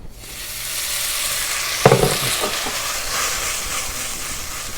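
Shrimp and sausage pieces hit a hot stir-fry pan with the heat just switched off, a sharp burst of loud sizzling that keeps hissing steadily for several seconds with a few scraping clatters near the start.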